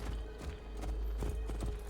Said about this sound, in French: maintenant on peut aller dans les villes à cheval